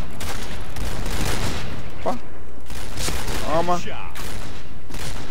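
Silenced sniper rifle fire in the Point Blank shooter game, heard as a few short muffled shots and impacts amid continuous game noise, with someone talking over it.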